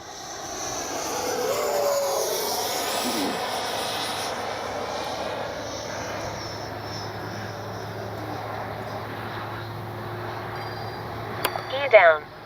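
A Freewing Avanti S V2 RC model airplane's propeller engine drones steadily at a distance overhead, with wind noise and a few clicks near the end.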